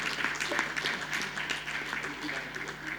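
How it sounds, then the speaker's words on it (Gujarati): Applause at a JJC Central Board installation ceremony for Kishorbhai Sheth, a steady wash of many hands clapping at moderate level with murmuring crowd voices underneath. "એની માટે એક જોરદાર તાળી કિશોરભાઈ શેઠ માટે પણ"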